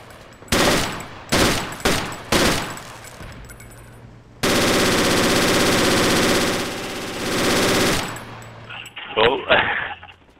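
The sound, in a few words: bipod-mounted machine gun firing in video game Project Reality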